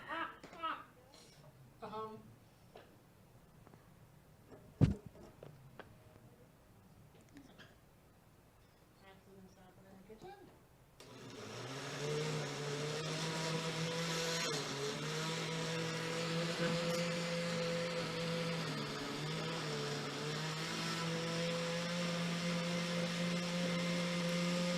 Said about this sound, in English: Now you just press blend and we should have a dip